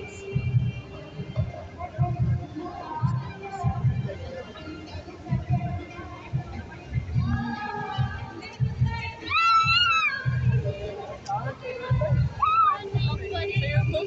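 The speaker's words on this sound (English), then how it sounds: "It's insane crowds coming down here." A busy crowd at Nathan Phillips Square in Toronto, a dense babble of many voices with children's shouts and high squeals rising over it, fairly loud and continuous throughout.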